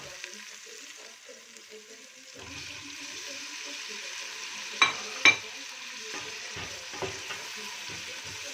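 Ginger garlic paste and green chili sautéing in oil give a soft, steady sizzle with faint stirring scrapes and a couple of sharper utensil clicks midway, fairly quiet and without speech.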